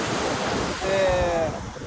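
Sea waves washing ashore at Sharjah beach with wind buffeting the microphone, a continuous close surf roar swelling midway, with a faint whistle-like tone over it.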